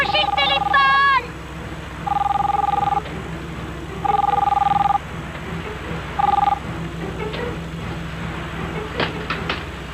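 Electronic telephone ringing in short repeated tonal bursts, about four rings spaced a second or so apart, against a low background hum with brief chirpy noises at the start and end.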